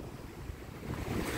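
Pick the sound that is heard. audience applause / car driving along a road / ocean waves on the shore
ocean waves on the shore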